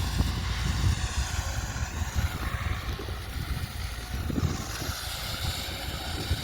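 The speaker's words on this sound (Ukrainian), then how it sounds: "перевірили настройки і пішов трактор розкидати" A tractor pulling a Kverneland fertilizer spreader drives off across a field with a steady, moderate engine rumble and broadband mechanical noise, no voices present.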